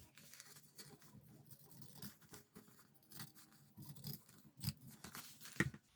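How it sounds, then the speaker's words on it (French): Pinking shears snip through a fabric seam allowance in a series of crisp, close cuts, quiet and irregularly paced, with a few sharper clips near the end. "avec le ciseau cranteur, je laisse environ 5 mm de ma couture"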